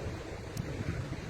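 Ocean waves at the seaside wash steadily as a low, continuous rumble of surf, mixed with soft wind buffeting, with no voices.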